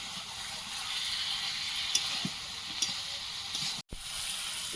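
Chicken and potatoes cooking in a pan with spices, a soft, steady sizzle with occasional light stirring taps, fairly quiet and close, cutting off briefly near the end.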